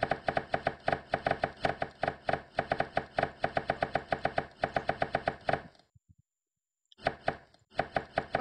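Vegetables and fruits on a conveyor belt are sliced in the game Chop Chop Slices, a rapid steady run of crisp chopping hits that stops for about a second, then resumes at the same brisk pace.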